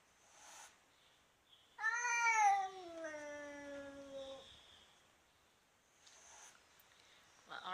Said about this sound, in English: Well, our cat is not that friendly, but Larry is okay with him